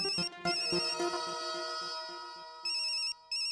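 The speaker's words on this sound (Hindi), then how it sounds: "उसका फोन आ रहा है" A mobile phone ringtone plays for an incoming call, a bright melodic chime pattern repeating in close, clear bursts with brief gaps, alone without talk.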